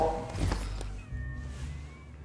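A cat meows in the South Park: The Fractured But Whole video game, one short clear meow near the start, followed by quieter game ambience with a faint whistling tone.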